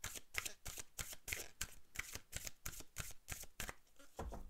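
Oracle cards being shuffled by hand: rapid, rhythmic riffling bursts repeat steadily and close up, with no voices.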